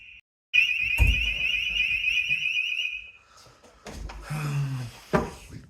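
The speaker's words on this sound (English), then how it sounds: "I forgot to switch the alarm off." A shrill electronic alarm beeps rapidly for a few seconds, then stops, followed by clattering and a door-like thud nearby.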